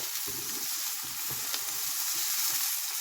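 A steady crackling sizzle of food frying in a little oil in a pan, with intermittent low bumps and scrapes of stirring.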